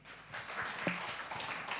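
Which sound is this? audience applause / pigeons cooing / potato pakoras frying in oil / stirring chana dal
audience applause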